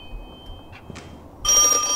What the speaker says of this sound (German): Für manche jungen Leute, die das Video gucken, ist das gruselig, weil das ein altes Telefon ist.